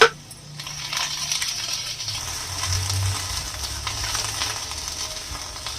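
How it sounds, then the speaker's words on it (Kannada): Chopped capsicum frying in a little oil gives a steady, close sizzle across the whole stretch, with faint scraping and clinks of stirring mixed in and no voices. "ಫಸ್ಟ್ ಇದನ್ನು ಹುರಿದು ಇಟ್ಕೊಳ್ಳೋಣ."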